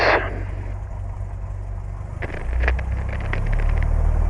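A Cessna 172 aircraft engine idling before flight, a low steady rumble with a brief crackling burst partway through and the drone growing slightly louder toward the end, no voices.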